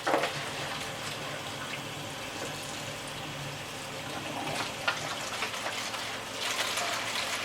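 Tap water runs steadily into a sink while dyed purple cotton yarn is rinsed, giving a continuous close gush with small splashes.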